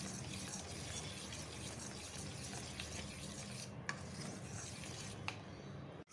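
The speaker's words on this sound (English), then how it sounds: "Stir this slowly and nicely very well." A spoon stirs spring roll batter in a bowl, a steady soft wet swishing that runs continuously near the microphone, with a couple of faint clicks of the spoon against the bowl before it stops abruptly.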